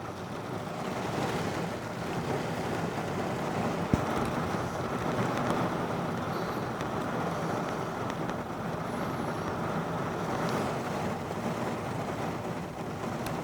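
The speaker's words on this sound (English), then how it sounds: "It is pouring and windy now." Heavy rain pouring with gusting wind at an airport's departure end, a steady broadband wash and rumble throughout, with one sharp knock partway in and no voices.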